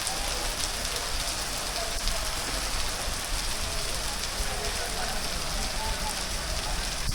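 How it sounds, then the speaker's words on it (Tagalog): Heavy rain pouring down outdoors, a dense, loud, unbroken hiss of drops on surfaces that holds steady throughout with no pauses. "Lakas talaga ng ulan."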